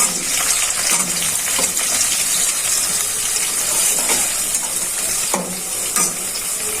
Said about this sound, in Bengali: তেলটা গরম হয়ে গেছে, পেঁয়াজ কুচিগুলো দিয়ে দিচ্ছি